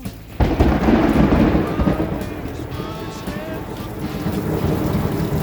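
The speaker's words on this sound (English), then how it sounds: "probably not the best idea even just to stand outside during a massive thunderstorm" Heavy rain from a massive thunderstorm pours steadily outdoors, with loud rolling thunder rumbling near and deep underneath from the start, the downpour hissing continuously throughout.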